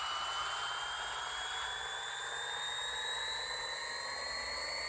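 Modified Nissan GTR engine in the Pixel Car Racer video game screaming through a dyno run, a loud, steady high-pitched synthetic whine that climbs gradually in pitch throughout, with no talking.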